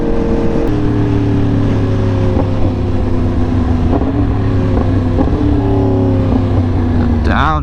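A Yamaha R1 motorcycle pulls hard in third gear at highway speed, around 97 mph. Its engine drones steadily and loudly under strong wind rush and holds a high, continuous pitch across the run.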